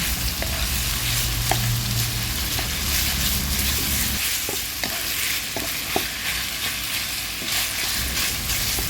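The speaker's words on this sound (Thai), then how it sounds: "เราก็จะเอาหมูบดใส่เข้าไป ผัดต่อไปค่ะ ให้หมูสุกค่ะ" Minced pork and shiitake mushrooms stir-fry in a pan with a loud, continuous sizzle, with close scraping stirs of a utensil against the pan recurring throughout.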